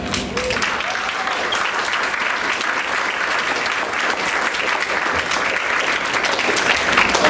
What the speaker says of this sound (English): how about a round of applause for our national championship marching band performing outside for us for our guests